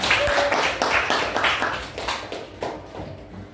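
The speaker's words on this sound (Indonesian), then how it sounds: "tepuk tangan untuk kita semua" A classroom of children applauds together, a burst of hand clapping in repeated rhythmic waves that fades over a few seconds, fairly close and lively.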